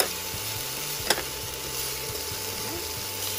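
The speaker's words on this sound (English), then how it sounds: "So all we have to do is just saute them for 30 seconds." Garlic and mixed vegetables sauté in a pan, giving a soft, steady sizzle with faint stirring and scraping and one sharp clink, all fairly quiet and close.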